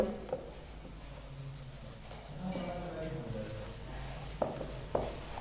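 A teacher writing on a classroom board during an organic chemistry lesson, producing faint scratchy strokes and taps under continuous talk, with a couple of sharper knocks near the end.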